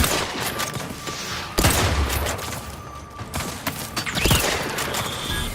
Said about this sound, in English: Is she the one that's shooting the grenade thingies at us, though?